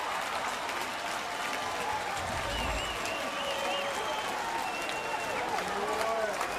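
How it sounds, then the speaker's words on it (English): A Baltimore Orioles baseball crowd rises in a standing ovation at the ballpark, steady applause and crowd roar filling the air throughout, with a broadcaster's voice talking over it. "Got a standing ovation from the Oriole crowd"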